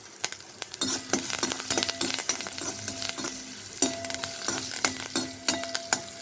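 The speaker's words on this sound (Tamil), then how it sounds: "கருவேப்பிலை போட்ட பிறகு நம்ம நசுக்கி வச்சுருக்கிற பூண்டை போட்டுடலாம்." Crushed garlic and curry leaves frying in oil in a pan, with an even sizzle broken by frequent stirring and spoon scrapes against the pan, close and moderately quiet with no talking.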